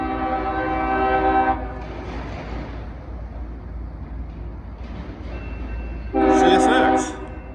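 An Indiana & Ohio Railway freight train carrying steel coils runs down a street past a fire department. It sounds two loud, near horn blasts, one at the start and one near the end, over a low rumble of rolling cars and faint voices.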